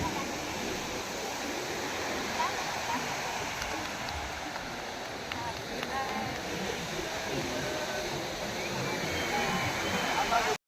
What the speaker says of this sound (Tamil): அலைகள் சவுண்டோட நல்லா இருந்தது